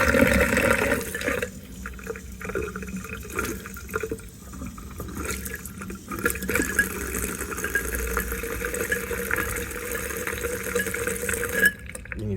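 Water runs from a tap into an Elkay Lustertone Classic single-bowl undermount stainless steel sink used as a hand-wash sink, a continuous loud splashing rush that varies slightly as the flow shifts.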